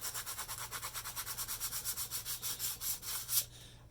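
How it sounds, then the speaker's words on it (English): Sandpaper rubs lightly by hand over wood filler on a German G43 rifle stock, a steady rhythmic back-and-forth scratching of about two strokes per second, close up and alone. "I'm just letting the sandpaper do what it needs to do."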